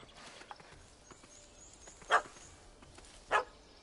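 A dog in The Witcher 3 video game barks at a cat up a tree, two short sharp barks spaced about a second apart over a quiet ambient background.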